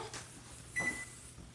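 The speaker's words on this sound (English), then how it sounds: "Put our timer on" A kitchen oven timer being set while baking green bean casserole at 350 degrees, giving one short, clear electronic beep over a quiet room hum.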